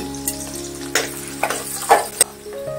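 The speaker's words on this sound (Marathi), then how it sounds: "आपण आता कढईत तेल तापत ठेवलंय, साधारण 4 चमचे टेबलस्पून तेल घेतलंय मी। कांदा घालून घेऊया आपण।" Onion sizzles in about four tablespoons of hot oil in a kadai for sambar, a steady crackling fry broken by a few sharp stirring scrapes, close and clear with no talk.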